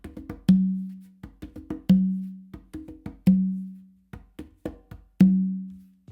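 Conga warm-up pattern: quick fingertip taps and light finger strokes on the conga alternate with four ringing open tones on the tumba, repeating in an even, close and clear rhythm with no talking.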